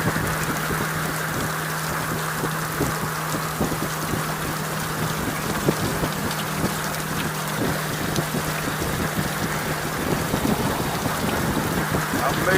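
Steady rain roars around a Honda GoldWing GL1800 motorcycle on the road, a dense, continuous wash with a constant low engine hum underneath, no talk, recorded close through a helmet-mounted setup.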